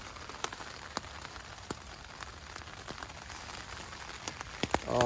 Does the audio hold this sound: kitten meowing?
no